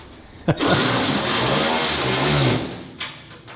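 A grinder working on truck bed parts starts with a sharp onset and then holds a loud, steady, close whine for about two seconds before spinning down, followed by a couple of brief clanks.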